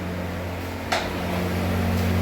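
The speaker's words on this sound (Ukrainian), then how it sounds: "Вентилятор запустився." Ventilation fan in a pigsty: a steady low mechanical hum and drone runs throughout, with a short hiss near the start and the noise swelling slightly as the fan spins up. No one talks.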